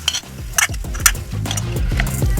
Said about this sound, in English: you can add another couple of teaspoons of ghee or butter, and you can continue frying them